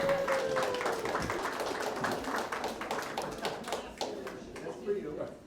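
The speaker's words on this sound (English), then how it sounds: "So a big round of applause for her as well." A room full of guests at an art exhibition gives a steady round of applause, many hands clapping densely and continuously for several seconds, with a faint sustained tone running beneath the claps.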